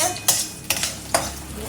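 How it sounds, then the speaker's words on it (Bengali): Onion, bay leaf, five-spice and dry red chilli fry in hot oil while a spoon stirs the pan, giving a soft steady sizzle broken by three sharp scraping stirs. "পেঁয়াজ, তেজপাতা আর 5 ফোড়ন, শুকনো লঙ্কা ফোড়নে দিয়ে দিয়েছে"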